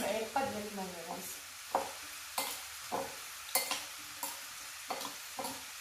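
Mayonnaise, oil, cumin and spices stirred together into a salad dressing, a spoon knocking against a bowl in a series of close, soft scrapes and taps, with brief sticky squelches at the start.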